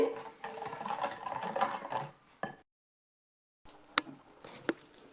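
Milk for pastry cream being whisked in a pan: a steady, busy rhythmic swishing and clattering for about two seconds, then a full stop, then a few isolated taps of the whisk.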